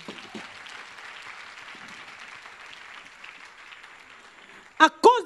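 A church congregation applauding during a sermon, sustained clapping at a moderate level under and around a preacher's voice, ending with a couple of sharp, louder claps near the microphone.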